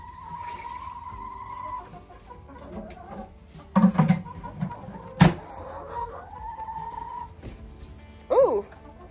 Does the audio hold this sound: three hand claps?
no